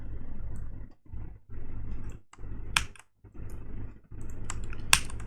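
Typing JavaScript code on a computer keyboard, steady bursts of close keystrokes with brief pauses between runs and a few sharper clicks, no voices.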